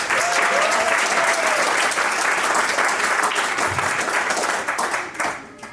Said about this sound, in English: Once again, give Joe a big round of applause.